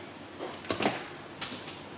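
An oven door in a school design and technology workshop creaks and knocks twice in quick succession, close and fairly loud over a steady background hum, with no voices.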